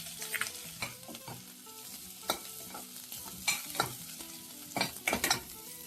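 Shallots, crushed garlic and pepper frying in ghee over a low flame, a soft continuous sizzle broken by several sharp scrapes and clinks of a spoon stirring the pan, close and without talk.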